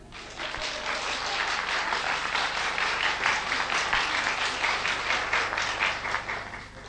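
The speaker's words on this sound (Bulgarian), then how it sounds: "Сега искам поклон и аплодисменти." An audience claps steadily at a stage show, a continuous wash of applause at even loudness from start to finish, moderately close, with no voices standing out.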